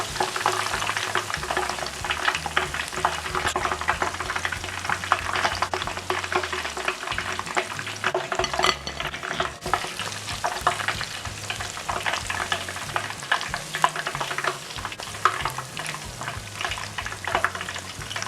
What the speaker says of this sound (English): Fry them until they turn golden brown and crispy.